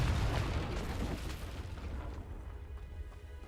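A Confringo blasting spell explodes in the game Hogwarts Legacy: one deep boom at the start rolls off and fades over a few seconds, fairly quiet overall, with no voices.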